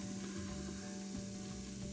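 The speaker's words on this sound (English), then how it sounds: "Look at it bubbling and fizzing." Burnt residue in a scorched pan bubbles and fizzes in a soft, steady hiss, faint and close with a continuous low crackle throughout and no voices.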